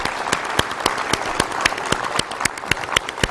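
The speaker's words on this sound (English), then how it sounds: "I think we all owe Paul a second hand of applause here for his work in putting this together" A hall of fame induction audience applauds in a hall, giving a dense, sustained round of clapping with loud individual claps near the front.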